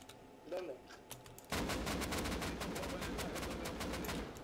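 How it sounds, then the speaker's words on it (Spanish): Rapid bursts of gunfire in the video game Rust crackle continuously after a quieter start, loud and dense like automatic weapons, with faint voices beneath. "Ven para acá, que hay tiros."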